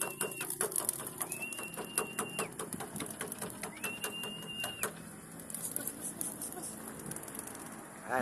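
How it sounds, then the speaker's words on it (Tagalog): Racing pigeons in a loft during club training, with repeated soft wing claps and scattered bird calls over a steady outdoor background; no voices. "Ayan ang mga ibon, no?"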